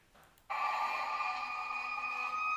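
A fire truck siren sounds abruptly, a sustained, steady tone holding at a constant pitch, fairly faint and distant in feel.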